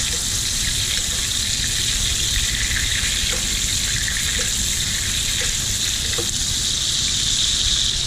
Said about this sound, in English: You can also baste your steak with all these juices.